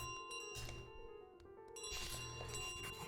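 Bell tones from Untitled Goose Game as the goose carries the bell, bright ringing dings over a quiet game soundtrack, fading out midway and then chiming again more loudly.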